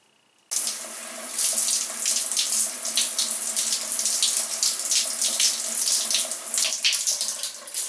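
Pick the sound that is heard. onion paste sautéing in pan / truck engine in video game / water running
water running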